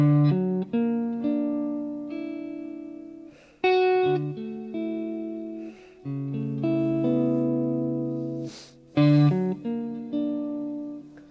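A sequence of sustained augmented triad chords, the fifth sharpened, with a tense, unresolved quality, each struck and left ringing before the next, with no voices.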